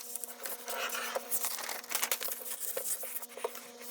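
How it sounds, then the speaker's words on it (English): Folded paper being cut in half with scissors, a continuous close crinkling and rasping rustle with small crackles throughout. "now you want to cut it in half along this line"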